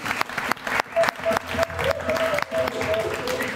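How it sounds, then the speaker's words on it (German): Studio audience at a German television talk show breaks into loud, sustained applause for the accompanying band, dense clapping filling the whole stretch with a few brief cheers mixed in. "Genau. Applaus!"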